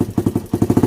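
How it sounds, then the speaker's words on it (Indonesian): A Suzuki Satria FU motorcycle engine with a faulty carburetor runs close by in rapid, uneven pulsing putters that sag and pick back up, sounding on the verge of stalling. "karena karburatornya ini agak error, jadi kadang normal kadang mati seperti ini"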